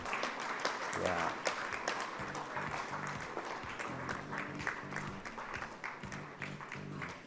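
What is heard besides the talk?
audience applause for a speaker walking up to the stage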